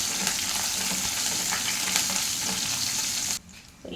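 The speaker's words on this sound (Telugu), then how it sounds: "ఉల్లిపాయ మంచిగా ఫ్రై చేసేసుకోవాలి" Chopped onion frying in a pan with mustard seeds, cumin and biryani flower for a capsicum masala curry, a steady close sizzle with faint stirring that drops away abruptly near the end.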